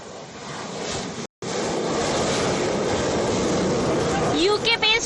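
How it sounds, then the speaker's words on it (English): A UK F-35B fighter jet rolls along the runway at Thiruvananthapuram airport for takeoff. A loud, continuous engine roar fills the scene, with a momentary dropout, and a voice briefly comes in near the end. "the flight has started moving from the runway and it will soon take off"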